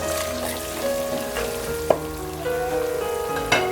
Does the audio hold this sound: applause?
no